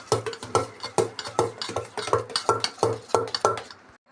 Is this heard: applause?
no